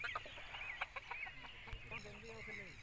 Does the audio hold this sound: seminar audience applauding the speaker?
no